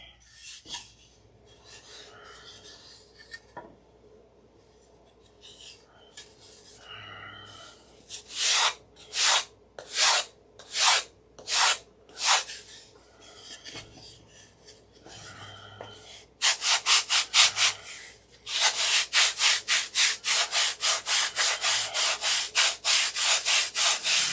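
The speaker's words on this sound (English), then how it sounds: "This sanding is so relaxing." Wood sanded by hand on a model aircraft part: quiet scuffing at first, then a run of about eight separate rhythmic rasping strokes, then a fast, steady burst of short back-and-forth strokes, close up with no talking.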